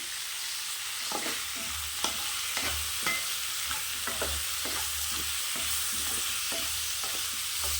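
Tomatoes fry in a pan for egg curry while a spoon stirs them, giving a steady low sizzle broken by repeated short scraping strokes, close and with no voices.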